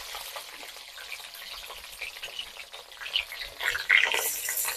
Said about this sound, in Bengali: পেঁয়াজটা দিয়ে পেঁয়াজটা ভালো করে ভেজে নেব।